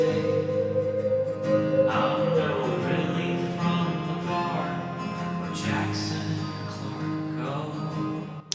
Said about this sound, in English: we've got my long reverb for all of the tracks,